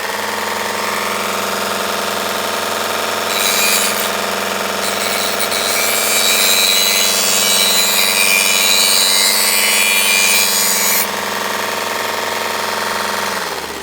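Mini belt sander grinder fitted with a grinding stone, grinding burrs off metal: a loud, steady motor whine with a harsher scraping hiss layered on for several seconds mid-run.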